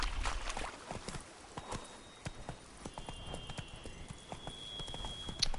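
In The Witcher 3, a horse in knight armour trots with steady, rhythmic clip-clopping hooves, heard fairly close at moderate volume against faint ambient game sound.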